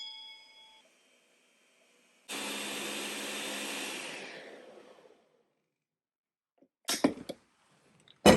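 A kitchen blender grinds cassava for fufu in one steady, loud whir lasting a few seconds before it winds down. A brief beep sounds first, and a couple of sharp knocks follow afterwards, with no talking.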